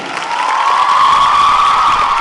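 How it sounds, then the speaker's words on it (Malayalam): A large crowd at a college event at St Teresa's claps and cheers in a loud, continuous wash of applause that holds steady throughout. "എല്ലാരും ഒന്ന് വെറുതെ ഒന്ന് കൈയടിച്ച നിങ്ങളുടെ എനർജി ഒന്ന് അറിയാനാ"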